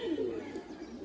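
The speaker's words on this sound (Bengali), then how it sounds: "এই যে আরেকটা কবুতর, মাশাআল্লাহ অনেক সুন্দর কবুতর।" A pigeon coos in a loft, giving one soft, low, rolling call with faint background hiss and no voices.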